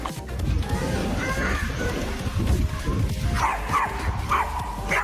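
A puppy gives a run of short barks and high yips alongside a person's voice, the yips coming in quick bursts toward the end, fairly close and loud over some background noise.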